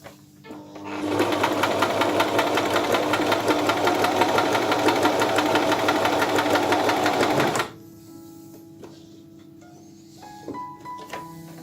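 A Singer Promise 1408 sewing machine runs in a fast, steady straight-stitch whir for about six seconds, then stops abruptly, leaving faint clicks and handling sounds.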